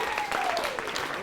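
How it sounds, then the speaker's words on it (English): Audience applause for a performer named Talia, a brief burst of steady clapping from a crowd, with a voice speaking over it. "Round of applause for Talia,"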